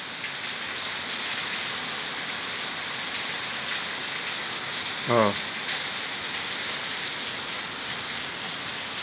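Steady rain falls in Ribeira do Pombal, Bahia, a constant even hiss of drops on surfaces that holds for the whole stretch, with one short chirp-like sweep partway through.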